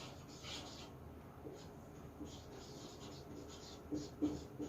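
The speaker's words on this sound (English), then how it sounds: "let me write it." Writing on a board in a language-teaching lesson, faint scratchy strokes in short bursts that come closer together toward the end, quiet with no talk.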